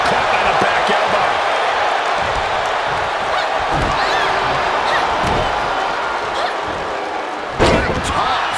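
A wrestler crashes onto the mat from an Alabama slam in an Adrenaline women's wrestling match, a sharp loud impact near the end over a steady roaring crowd and commentary.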